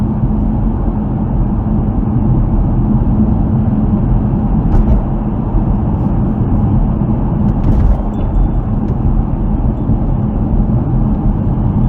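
A car drives along Montreal's new downtown highway 136 (Autoroute 720), heard from inside as a loud, steady low engine and road rumble with no talk.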